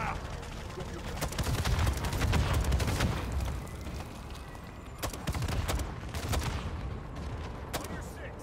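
Gunfire in MWIII Zombies, scattered sharp shots and short bursts over a rumbling low background, moderately loud at a mid distance, with a voice talking at times.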